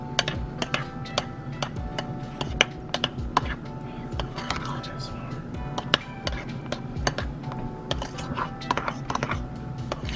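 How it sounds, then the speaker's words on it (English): A spoon stirs grape Kool-Aid into a pie mixture in a bowl, making rapid, irregular clicks and scrapes that run steadily throughout at close range. "we have the grape, and we're just gonna stir this in."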